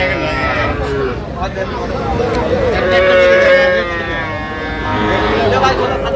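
Young Sahiwal bull calves and cattle at a farm in Tangail low repeatedly in drawn-out moos, close and fairly loud, mixed with a murmur of people talking nearby.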